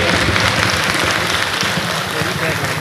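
An audience at a ceremony honoring a musician claps steadily. The applause is a dense, even patter that holds across the whole stretch, with no voices on top.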